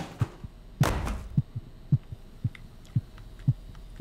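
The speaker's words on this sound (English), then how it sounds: "The heartbeat's going faster." Heartbeat in the video game The Cat Lady, a steady series of low, muffled double thumps pulsing at an even pace beneath a faint hum, with one louder burst of noise early on.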